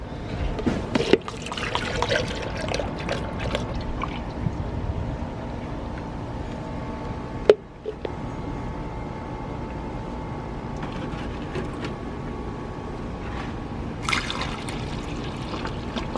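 Distilled water trickles and pours steadily into coolant concentrate for a long stretch, with a brief clunk midway and a light rattle near the end.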